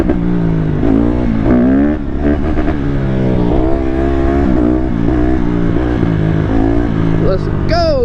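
A Honda CRF150RB dirt bike engine revs hard at speed in fifth gear on a straight road, its loud, rising and falling buzz close up and continuous, with wind noise and a rider's voice over it.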